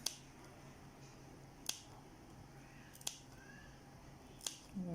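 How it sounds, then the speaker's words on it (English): Scissors snip the fabric seam allowance of a face mask in four separate crisp, quiet cuts spaced about a second and a half apart against a faint, quiet background. "Place a snip all around, but don't cut into your stitches."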